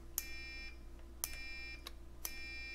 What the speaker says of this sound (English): If I just slightly touch the probes, it's beeping immediately.